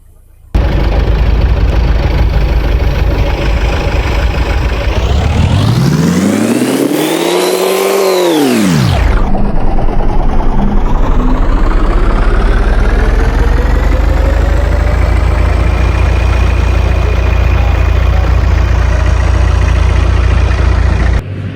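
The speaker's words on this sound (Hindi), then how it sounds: "तो गाड़ी वाले ने 2-3 दफ़ा कोशिश की है मगर ऊपर नहीं आ रही।" A car strains in loud, sustained revving as it fails to climb a sand dune in the Cholistan desert, the engine pitch swooping up and down before settling into a constant heavy roar, close and unbroken, with no talking.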